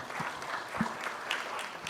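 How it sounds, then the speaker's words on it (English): Brief burst of audience clapping in a hall at a sports hall of fame induction ceremony, moderately distant and fairly soft, with scattered individual claps standing out. "Let's save the applause for the last."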